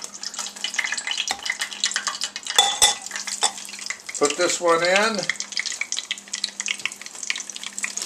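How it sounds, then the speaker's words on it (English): Stuffed mushrooms fry in shallow oil with a steady, close crackling sizzle, broken by clinks of a utensil against the pan and someone speaking briefly over it. "Why are you frying in it?"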